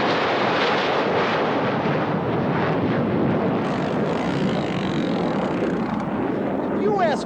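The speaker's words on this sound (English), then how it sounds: "Jets. But when they fly, they leave more than exhaust in their wake." Jet aircraft passing low over a South Minneapolis neighborhood near the airport, a loud sustained roaring rumble that swells and slowly fades, with a voice speaking over it.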